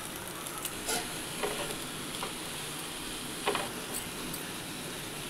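Onions frying in oil for a chicken keema samosa filling, a steady close sizzle with occasional louder bursts and crackles as the pan is stirred, no talking.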